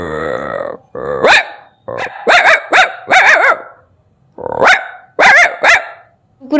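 A human voice imitates a dog barking, with a run of sharp yelps and barks in short bursts separated by brief pauses, loud and close with no other sound.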